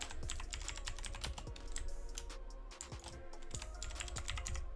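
Fast, steady typing on a computer keyboard, with continuous close key clatter and occasional heavier key strikes, no talking.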